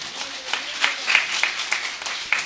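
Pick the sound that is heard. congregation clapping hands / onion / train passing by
congregation clapping hands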